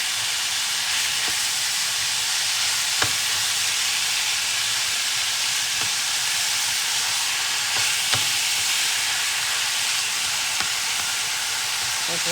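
Beef sizzles and hisses steadily in a hot frying pan for a casserole, with a few sharp scrapes and clinks of a spoon stirring and mixing it close by.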